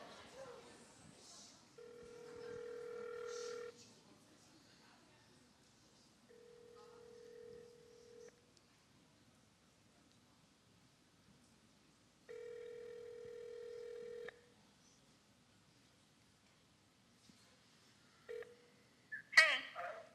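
A telephone gives out a series of steady touch-tone beeps with quiet gaps between them, faint and close, followed by a brief louder clatter near the end.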